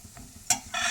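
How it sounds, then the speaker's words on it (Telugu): Cashews, almonds and raisins frying in ghee give brief bursts of sizzle, with a short spitting crackle and then a louder steady hiss, close and quiet. "నేతిలో జీడిపప్పు, బాదం పప్పు, సారపప్పు, కిస్మిస్, పిస్తా పప్పు వేపుకోవాలండి"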